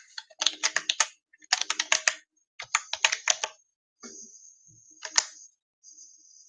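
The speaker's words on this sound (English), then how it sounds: "I'm going to type it in right now." Bursts of rapid keystrokes on a computer keyboard in short clustered runs, close and crisp, with a pause and a few scattered taps at the end.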